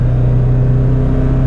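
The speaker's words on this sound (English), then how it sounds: "Drop a gear. That's floored." Mini Cooper S with a random misfire, floored in a lower gear, gives a loud, steady droning engine hum heard from inside the car.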